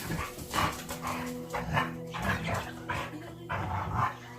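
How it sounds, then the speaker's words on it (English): Several pet dogs bark and yip at close range in a home, the barks coming in quick overlapping bursts with short whimpers between them. "Want to see my crazy dogs?"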